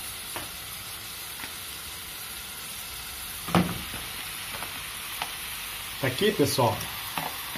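Salt cod (bacalhau) for a cod pie fries in a pan with a constant low sizzle, broken by scraping stirs and louder bursts of frying as it is moved around; a voice speaks briefly.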